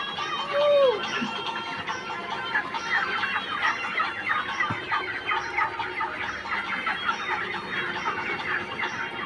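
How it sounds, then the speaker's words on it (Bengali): Chickens cluck repeatedly at a farm, with short calls scattered throughout, one louder squawk near the start, and voices and faint background music running underneath. "মুরগিগুলোকে ধরে বেড়াচ্ছে মুরগিগুলোর সঙ্গে খেলা করতেও পছন্দ করে"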